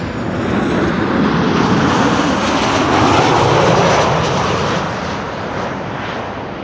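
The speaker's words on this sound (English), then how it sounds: "This is KLM flight 1466, arriving from Marseille." A KLM Boeing 737-800 lands on Schiphol's Kaagbaan runway with a loud, close jet roar that peaks mid-pass and then slowly fades.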